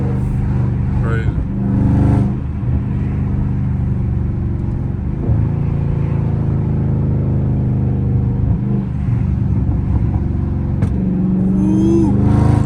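Dodge Charger Scat Pack driving through rush hour traffic, its steady engine rumble broken by a few sharp exhaust pops, with a person talking over it.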